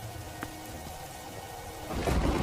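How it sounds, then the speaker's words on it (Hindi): A storm brings heavy rain with strong wind, a steady hiss of rainfall with rumbling gusts that grow louder toward the end. "और जोर जोर से हवाओं के साथ बारिश शुरू हो जाती है।"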